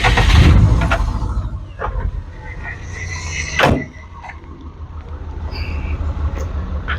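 Subaru 2.5 petrol engine fitted in a VW T3 van idling with a steady low rumble, loudest at first and then settling into an even hum, with a brief louder swell partway through.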